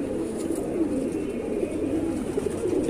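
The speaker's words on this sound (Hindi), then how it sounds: "देखिए दोस्तों ये सारे कबूतर अफजाल भाई इस वक्त उड़ रहे हैं ना" Pigeons coo in a low, steady murmur that sounds like a flock gathered nearby, continuous and moderately loud, with no voices.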